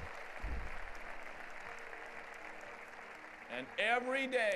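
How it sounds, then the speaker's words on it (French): A church congregation claps at length, a dense even wash of clapping that fills most of the stretch before a voice starts speaking over it at the end. "Applaudissez-les, ils ont été beaux joueurs."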